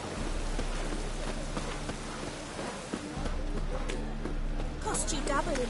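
Steady rain patters across a medieval city in The Witcher 3, a constant wash with hoofbeats and footsteps mixed in and voices talking over it.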